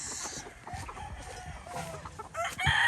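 A young Cardinal Kelso gamefowl rooster, about four or five months old, crows repeatedly at a gamefarm, with clucking and other farm fowl around it. The calls are loud and close, and no one talks.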